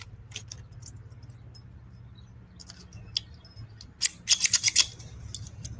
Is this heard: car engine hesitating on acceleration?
no